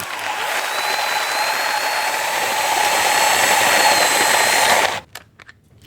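A power drill fitted to a hand coffee grinder whirs steadily while grinding beans, a loud continuous mechanical buzz that cuts off abruptly near the end, followed by brief rattling.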